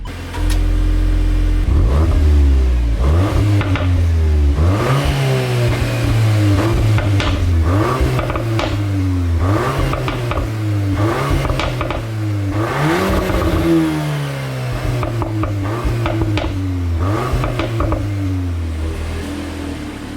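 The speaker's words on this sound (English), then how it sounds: "We'll get some revs in as well." A 2021 VW Golf R Mk8 engine revs repeatedly, close and loud, each rev climbing sharply then dropping back in a steady rhythm of throttle blips.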